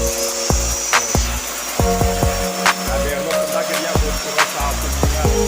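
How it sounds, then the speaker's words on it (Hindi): A power drill bores into the floor or walls of a house during termite-proofing treatment. The grinding drilling runs loud and continuous nearby, broken by repeated sharp knocks and clicks. "स्टाफ ड्रिलिंग शुरू करती है।"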